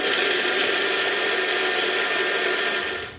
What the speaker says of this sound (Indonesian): Udah, kita bisa blend jadi satu.